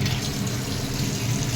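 Water poured steadily into a pan while cooking chilli chicken, a continuous close splashing rush with no pauses.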